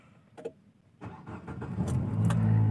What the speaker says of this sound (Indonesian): Aduh, nyalakan mobil.